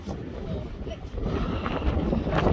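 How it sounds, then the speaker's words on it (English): Strong, cold winter wind gusts at Rhiwargor Waterfall by Lake Vyrnwy. It roars and buffets the microphone with a steady low rumble that builds slightly, and voices are faintly mixed in. "It's really windy and cold."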